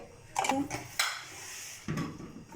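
A cooking pot (degchi) is set down in a home kitchen before oil goes in for chicken Manchurian: a few close metallic clunks and clatters, separated by quiet moments.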